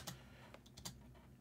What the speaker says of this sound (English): I don't feel like typing the rest.